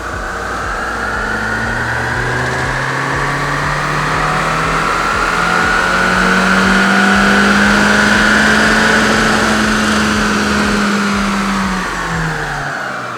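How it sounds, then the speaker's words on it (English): A stock 2025 Honda Civic Si revs steadily on a chassis dyno for a baseline pull, the engine note climbing smoothly in pitch and loudness for about nine seconds before easing off, loud and close with no talk over it. "we are also getting a baseline run just to see what this car makes completely stock before we tune it."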